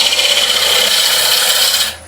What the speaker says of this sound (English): So I'm just going to do a nice little pull cut.